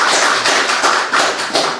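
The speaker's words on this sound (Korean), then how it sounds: "뜨거운 박수 부탁드리겠습니다." Audience applause at a political policy forum after a host calls for a warm round, a loud, dense, close wash of many hands clapping continuously with slight pulsing swells.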